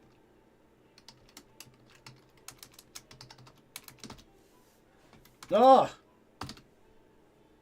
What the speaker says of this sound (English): I did it like I was typing like an old guy that couldn't type anymore